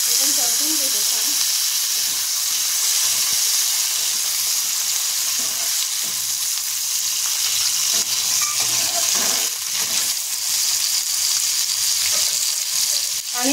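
Peanuts and diced potato sautéing in a pan for a fasting-day dish, a steady loud sizzle with occasional stirring scrapes running throughout, no talking.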